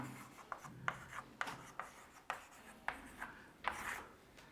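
Chalk or marker strokes on a classroom board during a chemistry lesson, a series of short scratchy scrapes in uneven rhythm, close and fairly quiet with no talking.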